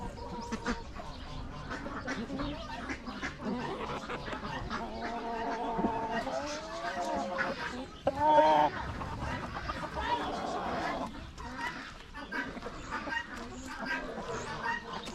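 Chickens of several breeds, including Sussex, Plymouth Rock and Buff Orpington, cluck and call at a small farm zoo in Christchurch, with other fowl chattering around them and people talking at moderate distance over the birds.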